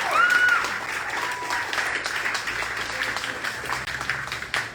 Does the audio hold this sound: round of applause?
yes